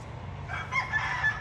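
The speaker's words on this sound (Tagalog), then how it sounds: "Pasensya na kayo sa manok." A rooster crows once in a drawn-out call, slightly distant, over a low background hum.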